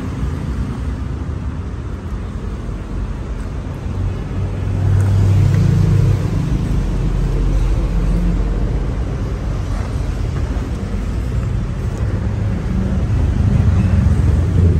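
A Wasino lathe runs in a Saigon workshop, giving a steady low mechanical rumble and hum that swells slightly partway through and holds constant, with no one speaking.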